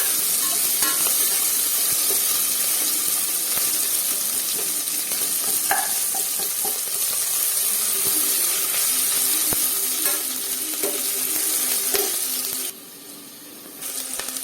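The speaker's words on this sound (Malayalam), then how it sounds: "കറിവേപ്പില ഇട്ടതിന് ശേഷം അരിഞ്ഞ് വെച്ചിരിക്കുന്ന ഉള്ളിയും പച്ചമുളകും ഇട്ട് ഇളക്കുക ചൂടാവട്ടെ" Chopped onion and green chili stirred into a pan with curry leaves, sizzling steadily while frying, with occasional scrapes and clicks of a spoon; continuous and close, with no talking.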